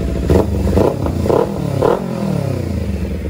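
A Kawasaki Z300 motorcycle engine, after a radiator overheated and burst, idles and revs in short bursts, a steady mechanical rumble rising and falling several times up close.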